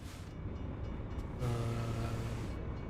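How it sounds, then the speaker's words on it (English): A train passing a railway crossing in the video game American Truck Simulator, a steady rumbling roll with a tonal horn-like drone swelling midway, heard at moderate distance with no talk. "Yeah, that was the train."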